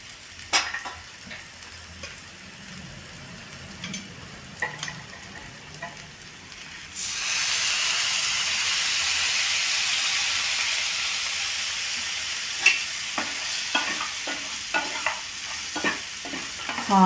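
Cashew and paneer frying in a pan with a spatula scraping and stirring, a sharp sizzle erupting midway and hissing steadily, with clinks of stirring before and after.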